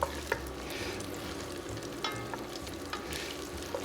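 Garlic lightly browning in a pan for pasta and broccoli soup, a soft steady sizzle with occasional stirring scrapes and clicks, fairly quiet and close, with no talk.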